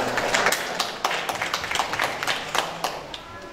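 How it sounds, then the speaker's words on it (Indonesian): An audience at a book launch for sculptor profiles claps for a sculptor guest speaker, a short burst of dense applause that thins into scattered claps. "Kita berikan tepuk tangan untuk Pak Win Dwi Laksono."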